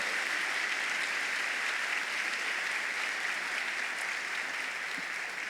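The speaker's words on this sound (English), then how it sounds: "Let's give all of us a round of applause for a job well done." Audience at the FCPS Honors school awards ceremony applauding, a dense, steady wash of clapping from a large crowd sustained throughout without pause.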